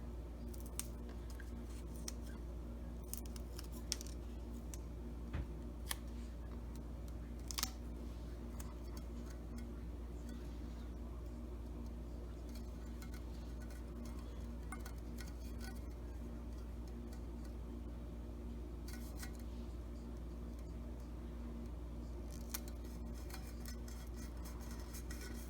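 Scissors cut paper snowflakes for a snowman tumbler craft, heard as faint, sparse snips and small clicks over a quiet room hum.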